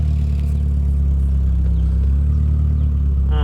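Steady, loud idle from a Volkswagen GTI 2.0 engine with CIS-E injection, just after its turbo was reinstalled, a constant low rumble at about 1,000 rpm with light clatter throughout.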